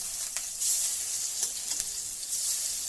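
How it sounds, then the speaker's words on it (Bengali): Malabar spinach stuffed vegetarian fritters frying in hot oil, a continuous close bubbling sizzle with a few sharper crackles and no talking. "এক পাশ কিন্তু আমার লাল লাল করে ভাজা হয়ে গেছে। এবারে আমি আস্তে করে লউটে দেব।"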